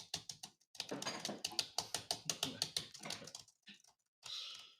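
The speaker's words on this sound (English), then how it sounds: "Do some loud typing." Rapid keystrokes on a quiet computer keyboard in an attic, a close, steady run of clicks with brief pauses and a short burst of rustle at the end.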